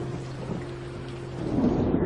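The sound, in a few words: heavy rain and thunder outside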